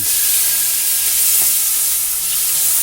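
Ginger and onion hitting hot oil in a wok for spicy cabbage and mushrooms, a loud, dense, continuous hissing sizzle that holds steady throughout with no voices.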